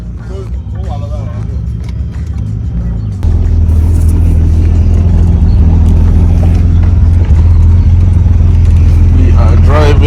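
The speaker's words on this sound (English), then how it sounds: "We are driving the Supra for the first time." A Toyota Mk4 Supra with a rebuilt 2JZ engine runs loud and close, its rumble jumping to a heavier, fuller drone partway through, with voices talking over it.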